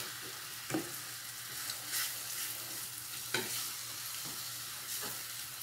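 Zucchini farofa is stirred in a pan under a low continuous sizzle, with a few distinct spoon scrapes against the pan at irregular intervals, close and without voices.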